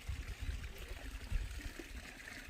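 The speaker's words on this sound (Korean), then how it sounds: "계곡인데 지금은 이렇게 지금 물이 아주 조금씩 흐르는데" A small mountain valley stream with only a little water flowing, trickling softly and steadily in the open air, faint and continuous with low rumbling wind-like texture.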